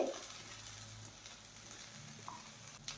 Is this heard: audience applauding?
no